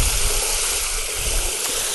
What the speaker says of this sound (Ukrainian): Під час того, як водичка набирається, вона чудово розмішується.